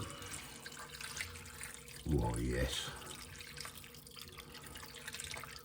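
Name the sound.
water being poured into a cooking dish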